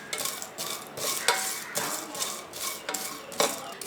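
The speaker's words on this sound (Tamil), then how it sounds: "இதை மிதமான தீயில வச்சு இந்த ஏலக்காயை நான் வறுத்து எடுத்துக்கிறேன்." Whole cardamom pods rattle and scrape as they are stirred while dry-roasting in a heavy pan over medium heat, with rhythmic spoon strokes sweeping through them every half second, close and clear.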